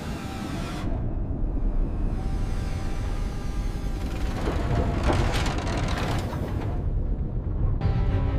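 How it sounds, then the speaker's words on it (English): Hydraulic claw of a deep-sea ROV closing on a fused cluster of U.S. Navy gold ingots, heard as a steady mechanical grinding and ratcheting whir over a dense low underwater hum, growing busier near the middle. "The pilot then closes the hydraulic claw on the fused cluster."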